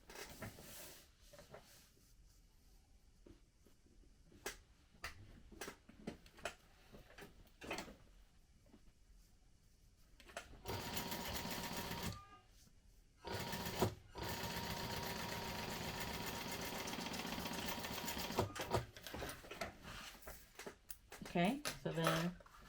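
A sewing machine stitches a fabric crossbody bag in short bursts of rapid mechanical whirring, ending in a longer steady run, with pauses and small handling clatter in between.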